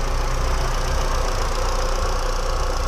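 A 2001 Audi A3 turbo engine idles steadily and evenly, a continuous low rumble with a faint rhythmic knock, heard up close with no talking.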